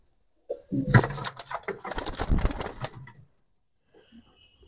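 Teddy pigeons coo close by in soft, throaty bursts, along with fluttering and rustling, then a brief quiet with faint cooing at the end.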